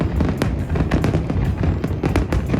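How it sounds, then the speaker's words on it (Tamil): Fireworks burst during a 2024 New York celebration, a dense, loud, continuous stream of crackling pops and bangs with no pauses. "இங்கே செலிப்ரேஷன் எல்லாம் ஃபயர் ஒர்க்ஸ் தான் அதிகமாக இருக்கும்"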